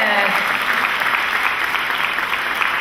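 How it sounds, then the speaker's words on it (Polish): Dense, steady applause from an audience at a Miss Polonia beauty pageant in Łódź Voivodeship, 2010, greeting the newly crowned winner; continuous clapping fills the whole stretch with voices faintly mixed in. "Oklaski prosimy, wielkie brawa!"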